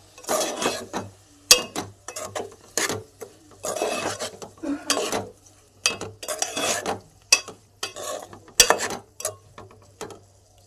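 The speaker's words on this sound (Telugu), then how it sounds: "ఉప్పు, పసుపు వేసుకుని కలుపుకున్నాం" Curry with salt and turmeric being mixed in a pot for a tomato and drumstick curry, a series of close, irregular scraping and rubbing strokes with brief pauses between them.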